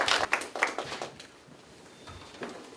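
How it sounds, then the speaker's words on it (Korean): Applause at a Korean ceremony for a sustainability volunteer program, a short burst of hand clapping that is strongest at first and quickly thins to scattered claps. "박수 부탁드릴게요."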